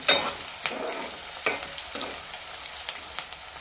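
Cluster beans fry in a pan with green chillies for a curry, a soft crackle broken by a few quiet stirring scrapes, brief and fairly faint.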